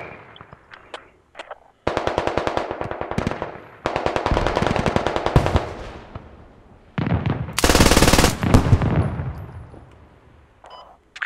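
An MG3 machine gun in the Squad video game fires long, rapid bursts of suppressive fire, loud and close, separated by brief pauses and ending with sharper scattered shots.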